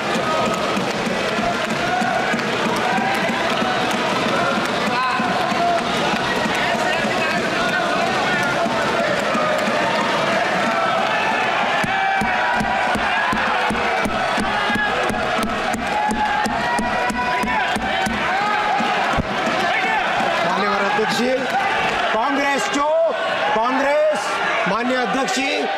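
Members of the Lok Sabha in India raise a dense roar of crowd noise, cheering and rhythmic clapping or thumping for railway employees, loud and continuous, with voices shouting throughout.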